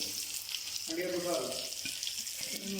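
Onion and chili sizzle in a frying pan, a steady hissing fry heard close and loud throughout, with a brief voice and a few soft stirring knocks partway through.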